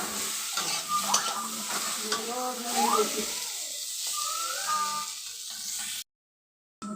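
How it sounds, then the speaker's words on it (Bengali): Potatoes fry and are stirred in a pan, with a steady sizzle broken by scraping and clattering strokes before the sound cuts out abruptly near the end. "আর এদিকে আমি আলু টানা দিতেছি"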